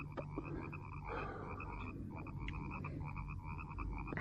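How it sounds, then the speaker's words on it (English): A dense chorus of frogs croaks continuously in marshland, many voices overlapping in a steady pulsing drone with a few sharper close calls, and no one speaking. "There must be millions of them in those marshes. The frogs."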